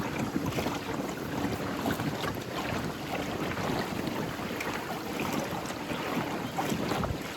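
Strong wind buffets the microphone in a constant roar over a lake in Giethoorn, Netherlands, with faint lapping water beneath it and no voices.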